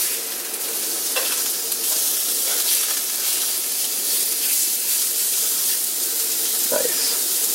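Chicken pieces browning in a cast iron pan, with a steady close sizzle and frying hiss running throughout, a few clinks and stirring sounds, and one short higher squeak near the end.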